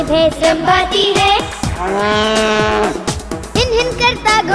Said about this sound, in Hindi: गाय भैंस रंभाती है,